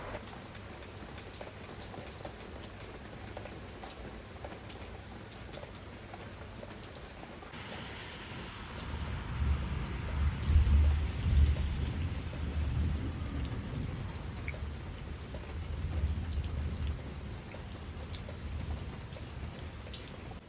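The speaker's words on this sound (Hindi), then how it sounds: "और बारिश जो है वो फिर शुरू हो गई थी और पूरी रात बारिश हुई है।" Heavy rain pours steadily throughout a night storm, with a deep rolling rumble of thunder swelling midway and fading slowly, no voices present.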